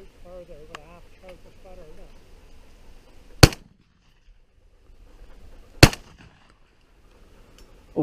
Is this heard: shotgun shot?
yes